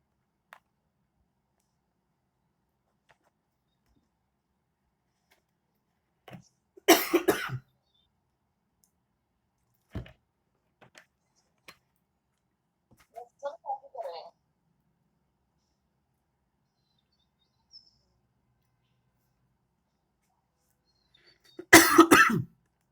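Two short bursts of harsh coughing, separated by long quiet stretches with a few faint clicks and a brief murmur of voice.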